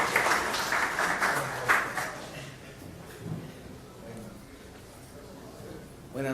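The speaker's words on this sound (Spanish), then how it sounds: "Le pido un fuerte aplauso para él" An audience at a medical society session applauds a session chair, steady clapping that grows louder for a moment and then dies away, with talk and room noise carrying on underneath.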